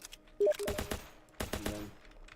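Rapid bursts of gunfire in the video game Cowporation Reboot, two clusters of quick shots about a second apart, loud and close with no talk over them.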